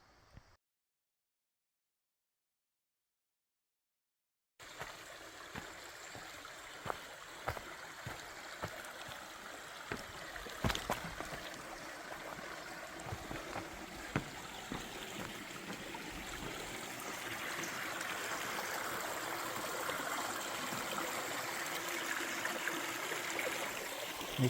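A mountain stream on the Appalachian Trail flows steadily with a soft broadband rush, starting after a few seconds of silence and building slightly louder toward the end, with a few faint knocks and thumps along the way.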